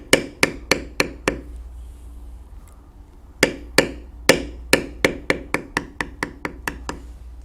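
A mallet strikes a beveling tool on leather while carving a bear head, giving sharp, close, evenly spaced taps, a run of five, a pause, then a longer quickening series of a dozen or so, no voices.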